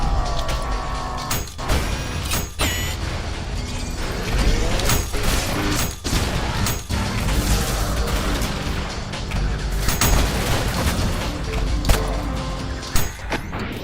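Sawed-off shotgun fire in the fast action video game ULTRAKILL: repeated loud, punchy blasts with mechanical clacks, set in a dense, continuous wash of game noise and music.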